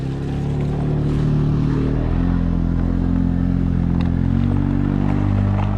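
A Talaria MX5 electric dirt bike climbs a steep trail on the Hatfield McCoy Trail, giving a loud, steady, close droning hum that holds for the whole stretch with no voices.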